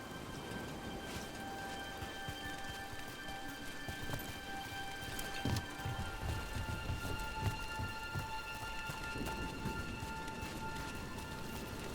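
Steady rain pours throughout in the video game Dragon Age: The Veilguard, a constant wet hiss with a few soft knocks and thuds underneath, no voices.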